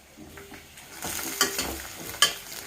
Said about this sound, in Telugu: సో ఇవి బాగా డీప్ ఫ్రై అయిపోవాలన్నమాట